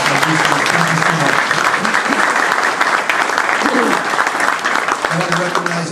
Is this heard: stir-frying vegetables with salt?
no